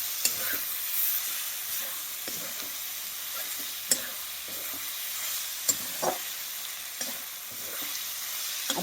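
Green unripe tomato curry being stirred with jaggery in a pan, a soft continuous sizzle broken by scraping spoon strokes and occasional sharper clinks against the pan, with no voices.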